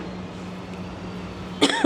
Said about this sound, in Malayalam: ചുമയാണ് ശരണം എന്ത് ചെയ്യാനാ